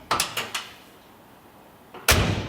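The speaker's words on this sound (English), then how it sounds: "those factory doors, they close so nice" A factory door on a 1970 Ford F100 Ranger pickup shuts with a single solid slam near the end, after a few lighter clicks and taps from the latch and handle. The sounds are close and there is no talking.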